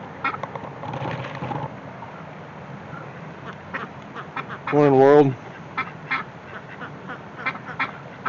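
A duck at a park gives a single loud, close burst of quacking amid outdoor ambience, with someone speaking briefly beforehand.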